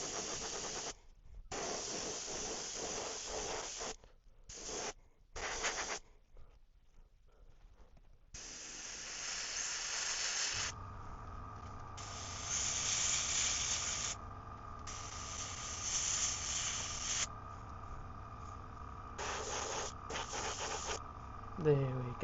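Black paint sprays from an airbrush onto a hand-built fishing lure, darkening its top, in repeated hissing bursts with short pauses, steadier and longer toward the end, with a low hum beneath.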